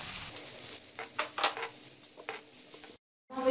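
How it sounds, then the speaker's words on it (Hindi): Chopped onion and ginger garlic paste fry in hot oil in a kadhai, a soft continuous sizzle broken by scrapes and stirring taps, fairly close and quiet, with no talking. "अब हम इसमें एक चम्मच अदरक लहसुन की पेस्ट ऐड करेंगे और फ्राई करेंगे थोड़ा सा।"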